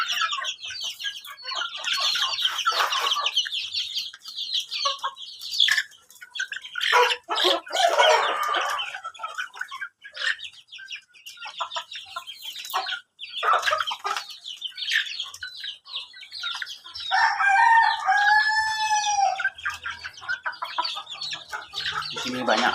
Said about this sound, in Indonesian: Ini ayam rainbow teman-teman.